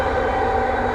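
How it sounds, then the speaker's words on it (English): Steady, loud rumble and hum of a metro train running toward Pasar Seni station in Kuala Lumpur, heard from the front cab with continuous wheel and motor drone and no voices. "The view out the front of the train heading to Pasar Seni."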